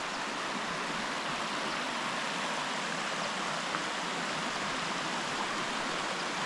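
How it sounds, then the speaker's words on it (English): A small waterfall and its little cascades in a western Pennsylvania state park rush in a steady, even wash of falling water that holds at a constant moderate level with no voices over it. "Nice little cascades, little waterfall."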